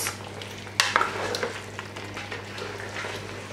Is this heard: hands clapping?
no